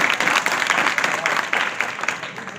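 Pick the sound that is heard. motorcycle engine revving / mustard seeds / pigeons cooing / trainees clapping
trainees clapping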